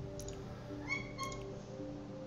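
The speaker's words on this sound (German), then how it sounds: "die eine Katze rennt gerade hier rum" A cat in the room meows twice in quick succession, faint and a little distant, over a low steady hum.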